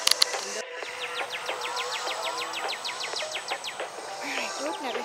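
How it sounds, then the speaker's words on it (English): Birds chirping in a summer vegetable garden, a rapid series of bright repeated tweets and trills close by, with a brief sharp knock at the start and faint insect buzz underneath. "Wow, the birds were chirping and everything."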